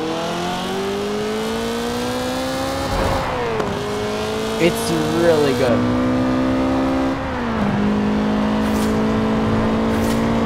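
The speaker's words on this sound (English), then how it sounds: "And the exhaust note is really nice." A Mazda racing car engine in the video game Forza Horizon 4 revs loudly and steadily, pitch climbing and dropping through gear shifts, while someone speaks briefly over it.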